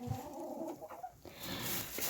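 Farm hens cluck softly nearby, a few short murmured calls amid faint background rustling and noise.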